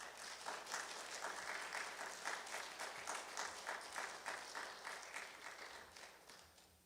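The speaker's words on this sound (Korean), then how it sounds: "우리 목사님 나오실 때 환영의 박수로 우리 환영하도록 하겠습니다" A church congregation applauds to welcome the pastor to the pulpit, a steady, dense roar of many hands clapping that holds for several seconds and fades slightly at the end, with no speech over it.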